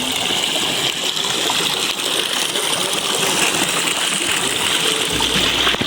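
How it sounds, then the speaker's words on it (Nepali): Water trickling and flowing out from among tree roots at a site in Pokhara, a steady broadband rush and splatter that fills the whole clip at close range with no talking. "यहाँबाट चाहिँ यस्तै पानी आइरहेछ"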